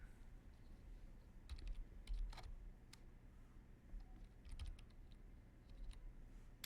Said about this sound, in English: my typing's a little off right now